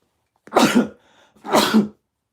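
Two short, forceful sneezes about a second apart, close and loud, with silence in between.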